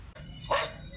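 A large dog gives a single short, muffled bark at moderate distance, brief and fairly faint over steady low background noise.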